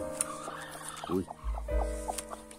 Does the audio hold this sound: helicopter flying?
no